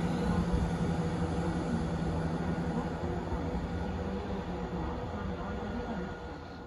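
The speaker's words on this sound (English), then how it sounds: "And here comes our train." A train pulls into a station in Wales on the line toward Cardiff, heard as a dense, steady broadband rumble and hiss that eases slightly toward the end, with no talking.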